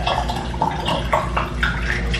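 Water spilling and splashing from a 20-litre water jug, uneven close pouring with small splashes and drips, no voices.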